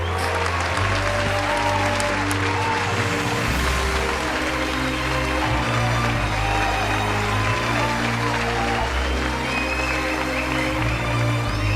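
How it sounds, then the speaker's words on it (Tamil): An audience keeps up loud, dense applause for about 12 seconds, filling a hall with steady clapping. "ஒரு பெரிய கைத்தட்டல் கொடுங்க."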